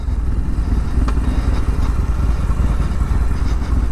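A Harley-Davidson XR1200 motorcycle engine rumbles close by in a loud, steady, lumpy idle with a few sharp mechanical ticks, no voices.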